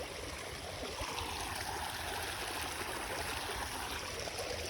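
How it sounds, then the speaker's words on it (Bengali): Steady rushing flow of water running toward a village fish pond, a continuous broadband wash that stays constant throughout, with no voices. "ওইদিকে দেখতে পারছো কি সুন্দর জল যাচ্ছে"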